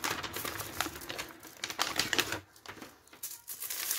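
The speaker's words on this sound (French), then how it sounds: "Je vais ouvrir la tablette de chocolat" Opening a bar of chocolate in a kitchen: crinkly, crackling wrapper and foil rustling up close, in uneven bursts with brief pauses.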